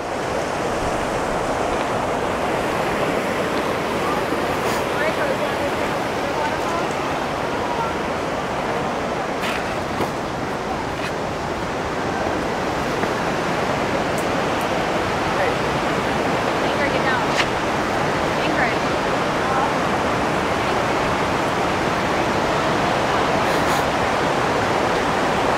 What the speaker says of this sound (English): So here's the bottom of the falls.